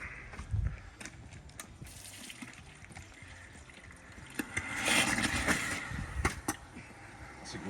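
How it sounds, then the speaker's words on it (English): Water is poured into the cooling system of a classic Mini campervan under restoration, a faint trickling and gurgling with a brief louder splash partway through, close by and with no talk. "Keep filling her up, Keith."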